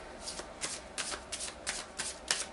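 Tarot cards shuffled by hand during a love pick-a-card reading, a run of quick crisp riffling bursts about every third of a second, close and clear with no talking.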